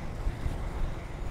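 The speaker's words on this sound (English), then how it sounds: "Little headwind." Wind gusts buffet the microphone from a steady headwind while moving along outdoors on a New York City skateboarding outing, a continuous low rumbling roar with no voices.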